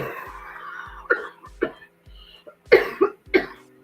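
Several harsh coughs close by, a pair followed after a pause by a quick cluster of three, with quiet gaps between.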